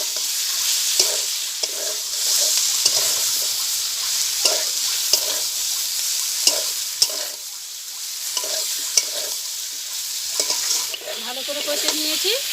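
Potatoes frying in a pan for a Bengali egg dish, a constant bright sizzle with a spoon scraping and stirring in regular strokes about once a second, close and fairly loud.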